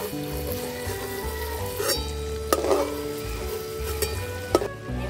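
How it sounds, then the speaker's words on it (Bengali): Prawns fry in hot oil with salt and turmeric, a continuous sizzle with occasional sharp clinks of a utensil against the pan, close and moderately loud, with no talking. "চিংড়িগুলো আগে ভাইজা নেব।"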